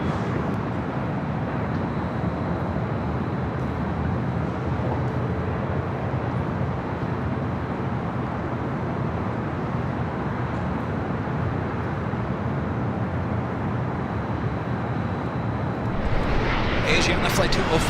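An aircraft at Los Angeles International Airport produces a steady, loud broadband engine roar that holds throughout, swelling slightly near the end, with a voice talking over it.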